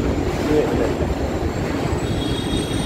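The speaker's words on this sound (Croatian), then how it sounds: "Evo ovdje vam je dole ispod metro." A New York subway train runs below the street, a steady low rumble and rattle rising through street-level ambience, with a faint thin squeal of wheels on rails.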